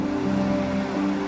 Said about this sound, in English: There, our first look at the falls.